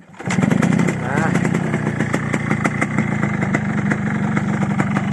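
A Yamaha RX King two-stroke motorcycle with a bored-up engine and unfinished tuning revs up close, then holds a loud, raspy, steady drone with a rapid crackling pulse throughout.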